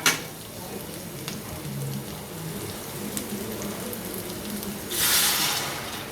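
Steady frying sizzle from a pan, continuous and close, with a louder hiss near the end as tamarind water hits the hot oil with fried chillies.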